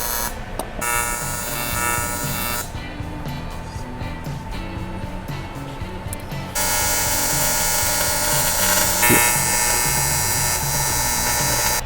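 A TIG welding torch arc, struck with tungsten on a metal part, gives a steady, close buzzing hiss for about twelve seconds. It grows louder and brighter about halfway through, with no voices.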